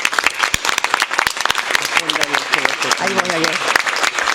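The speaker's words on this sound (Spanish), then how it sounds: "Hay que darles un aplauso" Audience applause during a Spanish-language event honoring the founders and members of LGBT and HIV support networks, with dense clapping running throughout under someone speaking at the microphone.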